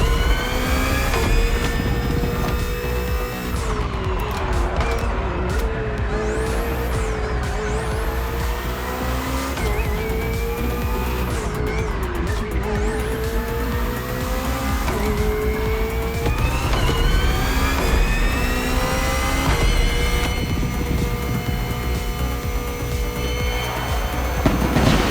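BMW hybrid V8 race car racing in The Crew Motorfest, a loud continuous engine roar with rising and falling gear-change sweeps, tire squeal and skids throughout, no talking.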